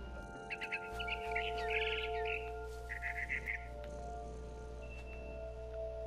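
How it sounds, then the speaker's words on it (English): A barn swallow chirps in What Remains of Edith Finch, a few short bursts of rapid twittering over a low steady hum, fairly faint and with no talk. "Then I heard chirping outside my window. It was a barn swallow going back to her nest."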